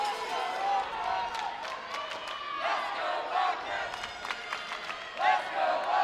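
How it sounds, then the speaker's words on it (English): A crowd cheers and shouts loudly at a high school wrestling championship dual in a large indoor space, with bursts of yelling rising and falling over several seconds. "Lexington fans getting loud, trying to cheer on Andy Zielinski"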